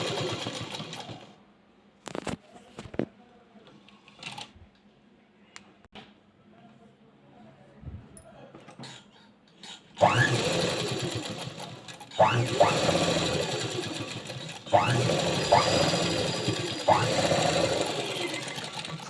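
A sewing machine stitches a blouse. It starts with scattered handling clicks and taps, then runs at speed in loud, continuous, rattling bursts. A few brief pauses and restarts break up the running, and no one talks.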